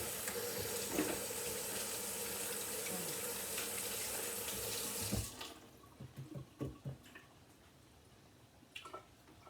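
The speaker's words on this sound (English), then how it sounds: "Let me wash my hands." A kitchen tap runs steadily while hands are washed at the sink, a broad close wash of water that cuts off about halfway, followed by a few soft drips and clinks.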